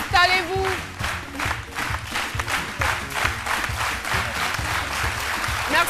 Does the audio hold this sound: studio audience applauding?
yes